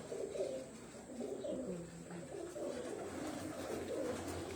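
Soft, repeated cooing of racing pigeons on a rooftop rolls along steadily in the low range, with faint rustling background noise and no talking.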